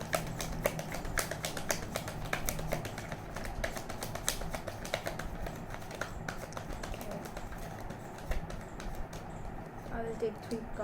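Rapid crisp flicking and riffling of tarot cards, repeated quick clicks running steadily throughout, with a soft voice murmuring underneath.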